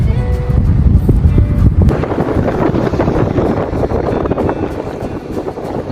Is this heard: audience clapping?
no